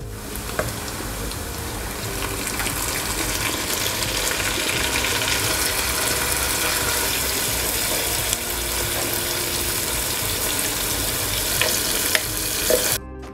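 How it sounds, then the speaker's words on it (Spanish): Browned pork frying in a pan as a strained sauce is poured over it, giving a loud, steady broadband sizzle that holds for the whole stretch without talk. "ya le vamos a voltear la salsa que hicimos, pero la vamos a pasar por el colador"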